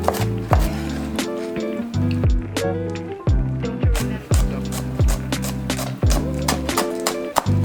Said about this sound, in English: then chopping some seasonal veggies like Swiss chard,